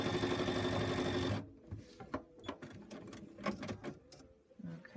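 A sewing machine runs briefly during ruler-work quilting with a Westalee starter set, a steady close whir for about a second and a half, then stopping and giving way to quieter handling sounds and scrapes.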